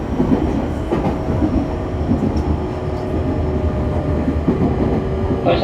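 An E501 series electric train, set K701, car MoHa E501-3, runs between Mito and Tokai with wheels slipping on snow. A steady rumbling motor and rail roar is heard from inside the car, with faint rhythmic joint clacks and no voices.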